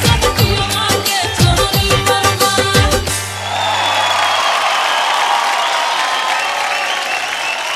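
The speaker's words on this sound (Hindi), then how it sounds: "हम चाहें के गो जोरदार ताली के साथ स्वागत कइल जाओ" Audience applause and cheering rise to welcome actress Akshara Singh onto the stage of the Bhojpuri dance show Nach Nachaiya Dhoom Machaiya, loud over stage music for about three seconds, then a steady wash of clapping continues.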